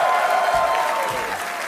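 A studio audience at a German late-night TV show bursts into brief, dense applause, a close and steady wash of clapping.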